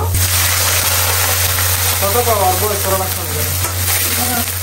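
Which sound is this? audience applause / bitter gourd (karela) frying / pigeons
bitter gourd (karela) frying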